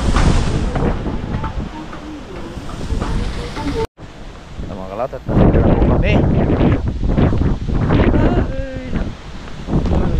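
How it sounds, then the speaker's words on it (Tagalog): Strong outdoor wind in cool weather with light drizzle buffets the microphone in loud, rumbling gusts, broken by a short dropout, while someone talks through it. "Ay, lakas ng hangin."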